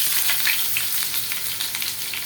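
Onions frying in hot mustard oil for beresta give a steady, close sizzle with crackling spits throughout.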